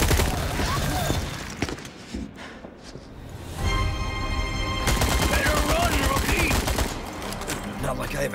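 Gunfire rings out during combat in the horror game Resident Evil 4 Remake, as repeated shots rattle over a dense mix of game sound, with spoken dialogue in the scene.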